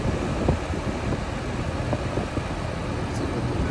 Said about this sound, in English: Fan motor is now working, but it is still failing.